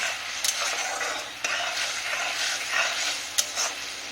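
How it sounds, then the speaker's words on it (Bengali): Boiled peas and potatoes being stirred with spices in a pan, scraping and sizzling steadily up close, with a few sharp clinks of the spoon against the metal. "এই যে মটর আর আলুটাকে এখানে মিশিয়ে দিই, যাতে এটা একটু মশলার সঙ্গে ভালো করে কষা হয়ে যায়"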